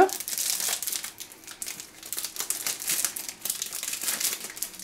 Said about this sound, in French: Hop, je froisse.